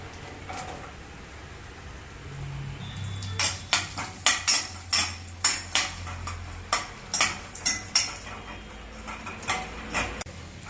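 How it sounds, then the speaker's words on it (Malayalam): Cashews, almonds and raisins being roasted in a pan, a spoon stirring and striking the metal in a run of sharp repeated clinks, close and fairly loud over a faint background. "ഇതിലേക്ക് കുറച്ച് ഉണക്ക മുന്തിരിയിട്ട് വറുത്തെടുക്കാം"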